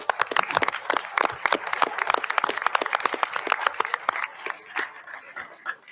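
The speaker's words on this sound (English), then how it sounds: "Please give yourselves a big round of applause." A modest crowd of parents at a live town hall claps loudly, with crisp individual hand claps that thin out and trail off toward the end.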